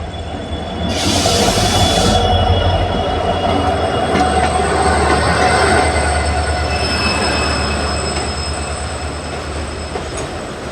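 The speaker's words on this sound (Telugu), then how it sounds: "మన ట్రైన్ అరైవింగ్ అవుతుంది బేగంపేట." The Narasapur Express (17256) pulls into Begumpet station with a loud, steady rumble of wheels on track. Metallic squeal and rhythmic clatter run throughout, and a brief hiss bursts out near the start.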